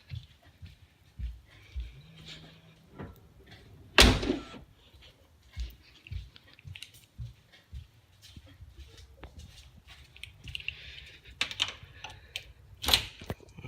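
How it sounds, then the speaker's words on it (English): The door of a BMW E36 car shuts with one sharp, loud thud partway through. Quieter clicks, shuffling and faint talk come before and after. "Oh, just close the door first."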